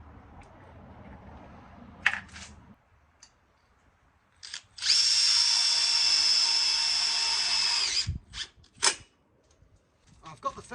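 A power drill drives a screw into a Lokklatch Deluxe gate latch on a double gate, one loud steady whirring run of about three seconds, framed by shorter bursts, clicks and handling noises close by.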